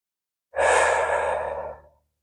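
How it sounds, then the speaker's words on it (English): One long audible exhale during a yoga pose, a breathy rush of air that starts sharply after a short silence, then fades out over about a second and a half. "Keep breathing here."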